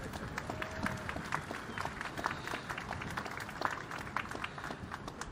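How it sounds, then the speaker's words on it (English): A large outdoor crowd at a Navy destroyer commissioning ceremony in Key West applauds for the chaplain, a steady wash of clapping from many hands filling the air at moderate distance, with a little wind. "How about a hand of applause for the chap?"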